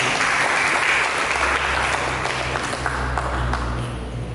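A church congregation claps loudly and steadily during a worship service, a dense wash of applause that holds for a few seconds before easing slightly at the end.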